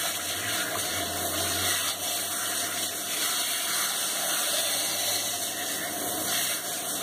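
Water rinses through an animal's fur during a bath, a steady close, full-band rush of running water with a faint pump or motor hum beneath, continuous for the whole stretch without talk.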